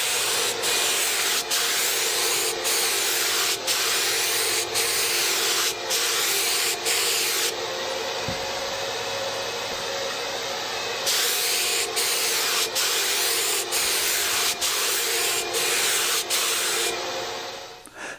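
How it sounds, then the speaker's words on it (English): Spray gun laying heavy coats of General Finishes polyacrylic onto a wooden CNC-cut Harley Davidson sign: a steady, loud, close airy hiss running continuously, with brief breaks in tone as the gun moves, and no talking. "I came in here with some of this General Finishes polyacrylic, and I laid several heavy coats on the sign"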